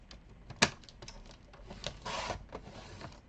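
Paper trimmer cutting cardstock for a craft project, a quiet close click followed by a soft scraping slide of the blade, with no talking.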